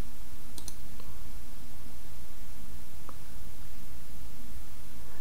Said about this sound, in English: Click on Add, and then click on Continue.